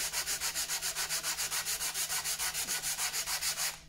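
Wood being hand sanded with 120 grit sandpaper during woodworking, a steady run of about twenty even back-and-forth rasping strokes, close and clear with no talk.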